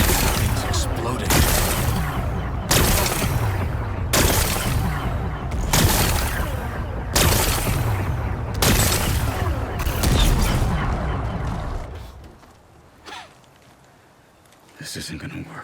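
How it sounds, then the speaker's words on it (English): Repeated booming rock-blasting explosions in the video game Horizon Forbidden West, a steady run of loud bursts roughly every second and a half, easing off into quieter rumble near the end. "Gotta blast away some rocks so I can expose the... It's working! Things exploding."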